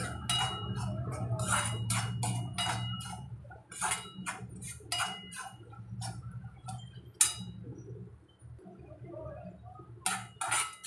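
Homemade spices for shev usal being sautéed in a pan: a rapid, irregular series of spatula scrapes and light metallic clicks against the pan, close and fairly quiet, with brief pauses between strokes.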